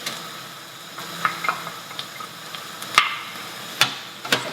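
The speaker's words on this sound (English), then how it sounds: "Passata is now cooking out nicely. I'm going to add in the tomatoes" Tomatoes going into passata cooking in a pan, giving a soft sizzle with scattered sharp clicks and clinks of stirring and utensil contact against the pan, all fairly quiet.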